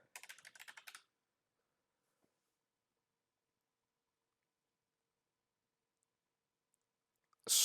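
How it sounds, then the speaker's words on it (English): A brief burst of computer keyboard typing, about a second of quick close key clicks, then near silence before a loud noise at the end. "So if I want to type in"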